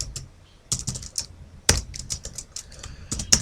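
Someone types C code on a computer keyboard, with bursts of close, crisp key clicks and a few louder key strikes scattered across quiet gaps, and no talking.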